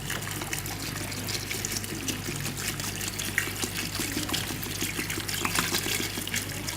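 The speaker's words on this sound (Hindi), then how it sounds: "और हम इसमें पानी डालेंगे 2 गिलास।" Water poured steadily from a glass into a pot of mutton curry base with yogurt, whole chilies, ground coriander and ginger-garlic paste, a continuous close trickle and splash running throughout with no talk.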